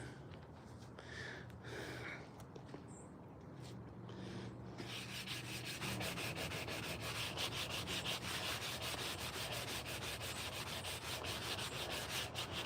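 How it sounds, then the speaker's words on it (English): Steady rasping sandpaper on a hand-carved wooden spoon, starting lighter and intermittent, then settling into continuous, close, even strokes for several seconds with no voices. "We'll get this thing sanded down."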